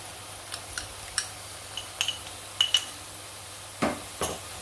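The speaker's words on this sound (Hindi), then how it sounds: "अब इस स्टेज में हम इसमें अदरक लहसुन का पेस्ट है वो ऐड करेंगे।" Ginger garlic paste going into onions frying in a pan, with a scattering of sharp utensil clinks and scrapes against the pan spread unevenly across the moment, fairly close and moderately quiet.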